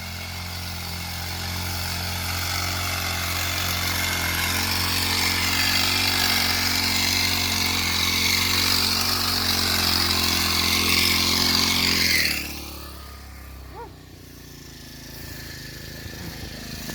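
A small engine-powered crop sprayer drones loudly and steadily for a long stretch while spraying eggplants on a farm, then cuts off abruptly, leaving quiet background with faint knocks.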